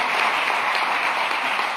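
A church congregation in Jalapa, Guatemala claps together in steady, dense applause, a continuous wash of hand claps at even loudness with no voices standing out.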